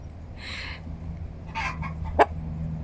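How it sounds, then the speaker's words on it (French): A Bielefelder hen cackles around egg laying in a few loud, scratchy bursts over a steady low background hum, with a sharp squawk near the end. "il y a une poule qui chante, qui va faire son œuf ou qui a fait son œuf"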